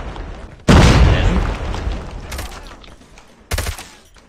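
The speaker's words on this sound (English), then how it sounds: "Grenade." A grenade explodes in a first-person shooter video game with a sudden loud boom that decays over a couple of seconds, followed by a second, smaller blast and scattered crackling pops.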